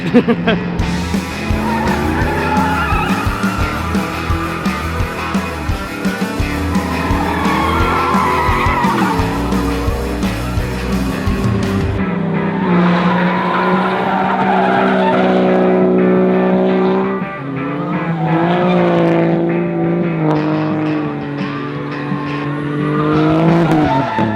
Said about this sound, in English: Let's see which one of these guys peels the tire off their wheel first.